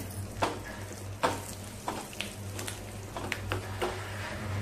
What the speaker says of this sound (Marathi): आणि सुक्या लाल मिरच्या ह्या घालूया.